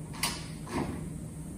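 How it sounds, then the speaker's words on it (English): Door of a HAAS VF3 CNC machine cycling, a sharp clack followed by a short sliding mechanical rumble, close and fairly quiet over a steady machine hum. "So let's cycle the door"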